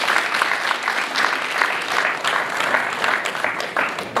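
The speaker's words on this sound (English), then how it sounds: "Give them a round of applause." A crowd at a stadium presentation applauds school board members, a full, steady round of clapping that stays strong throughout with no one speaking.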